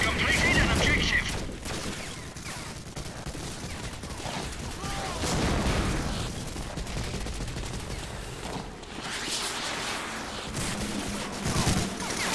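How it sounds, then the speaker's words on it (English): Online play of the video game Medal of Honor Allied Assault carries dense, continuous rattling gunfire with scattered bursts and booms throughout, moderately loud, with a voice talking over parts of it. "Oh, machine gun."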